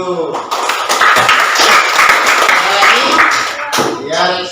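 Students in a classroom break into a burst of applause, steady clapping that fills several seconds while voices talk over it.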